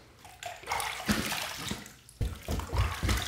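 Water runs and splashes in a bathroom sink as a razor is rinsed between shaving passes, close and fairly loud, in uneven bursts with brief pauses and no talking.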